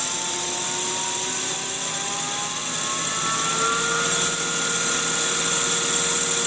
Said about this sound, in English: I think this is the parting off